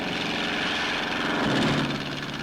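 A civilian patrol airplane from the 1940s takes off with a steady, loud propeller-engine drone that swells slightly partway through and holds throughout.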